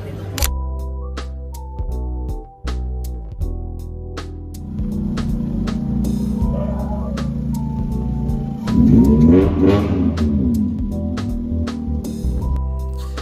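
Honda Civic EF engine idling and revving close by, a steady low rumble that swells into a louder rev burst near the end, with scattered clicks and knocks over it.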